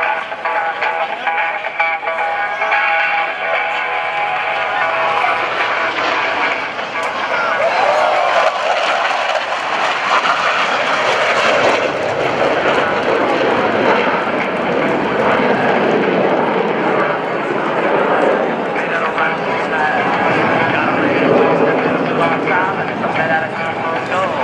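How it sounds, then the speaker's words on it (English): US Navy Blue Angels solo jets make a night-style knife-edge pass at the 2015 NAS Oceana Airshow, their roar swelling and sweeping past loudly under an announcer's voice. "Lieutenant Commander Tedrow and Lieutenant Chamberlain will roll their aircraft to 90 degrees angle of base and push forward on the stage as they perform the imposing night range pass"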